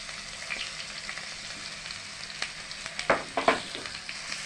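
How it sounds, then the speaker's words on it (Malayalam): Crushed ginger and garlic fry in hot coconut oil for a Kerala-style beef liver fry, a steady close sizzle with a few louder stirring scrapes and bursts toward the end. "നമ്മൾ ഇഞ്ചി വെളുത്തുള്ളി ചതച്ച് വിടുകയാണ്"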